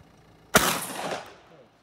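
A single sharp rifle shot cracks out toward a target 100 metres away at an outdoor range, followed by a brief fading echo.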